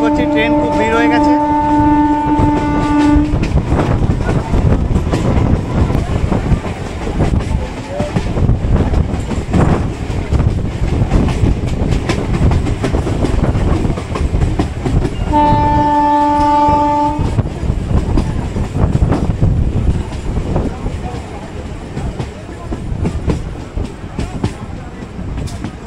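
A crowded Sealdah–Canning local train rolls along with a steady, loud rumble and clatter, its horn sounding twice, at the start and again midway, over a constant murmur of passengers inside the packed carriage.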